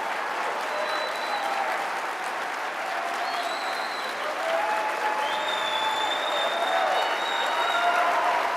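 A large CPAC audience applauds and cheers continuously, a dense wash of clapping with whoops and whistles rising and falling, steady and fairly loud from a distance throughout.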